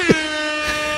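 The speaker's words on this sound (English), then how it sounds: "You're about to get the air horn." An air horn sound effect blasts loud and sustained for the full second, one continuous tone with a short voice-like blip at the start.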